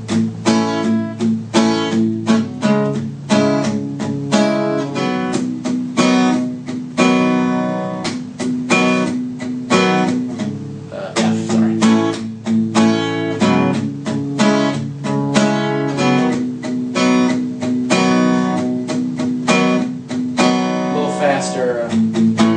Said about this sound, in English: putting that rhythm on all the chords slowly sounds like this.